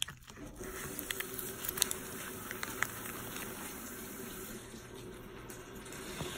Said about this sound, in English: we stick this in some hot water.